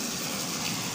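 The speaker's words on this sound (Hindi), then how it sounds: "पानी की आवाज़ आप सुन सकते हैं" Water gushes into a tall village water tank in Dawalye, Orakzai, a dense, steady rushing flow that fills the whole second without a break.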